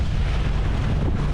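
A diesel engine drones steadily aboard a sailing boat under way with sails out, a constant low rumble mixed with wind noise, no one talking.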